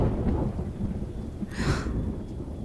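Thunder with rain: a low, continuous rumbling roll under a steady rain hiss, with a brief brighter crackling surge midway.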